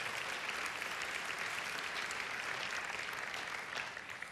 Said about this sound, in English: So give our judges a big round of applause again.